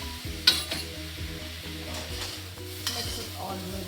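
Brown rice poha being mixed with sugar and lime juice in a pan, soft stirring and scraping with a few sharp utensil knocks against the pan over a low steady background hum, fairly quiet and close.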